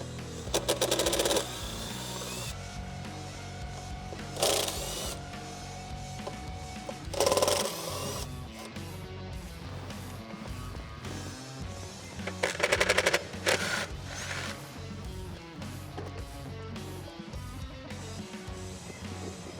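A 10mm socket wrench ratchets out throttle body bolts on a 2014-2018 Chevrolet Silverado 6.2L, giving rapid clicking bursts that come in short loud spurts with quieter shop noise between, close up and with no speech.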